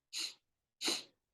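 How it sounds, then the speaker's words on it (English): Two separate sharp nasal inhales a short moment apart, breathy and hissy, close and fairly loud, each cutting off abruptly, in a guided breathing session, with silence around them. "Let's begin with the nose. Inhaling, segmented breath."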